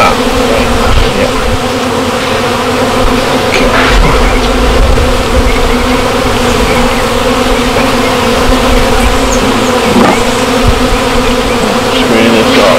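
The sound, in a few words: honeybees buzzing in a hive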